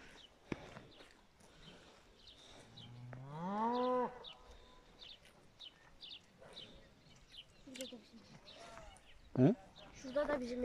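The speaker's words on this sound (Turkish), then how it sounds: "Şurada da bizim inek var." A cow in a village in Çorum's Alaca district gives one long rising moo, with birds chirping around it and people talking softly nearby in an outdoor setting.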